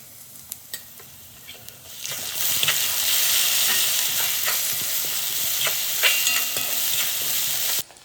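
A hog plum pickle mixture fries in a pan: faint quiet clinks at first, then a loud, steady sizzle from about two seconds on with occasional stirring scrapes, cutting off abruptly near the end.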